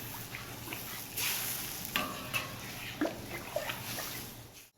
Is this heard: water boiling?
yes